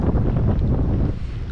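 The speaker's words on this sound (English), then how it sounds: "40 mile an hour gusts are tiring." Strong wind buffets the microphone in a loud, continuous rumbling roar with gusty fluctuations and no voices.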